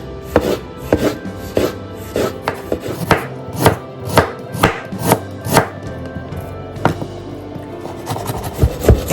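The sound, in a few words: slicing onion with a knife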